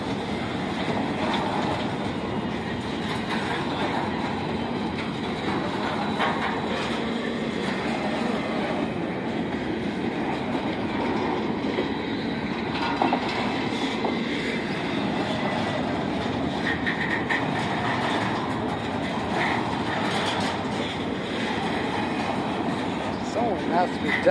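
A slow train rolls past close by, a steady rumble of railcars with faint clickety-clack and occasional wheel noise filling the whole stretch, with people talking over it.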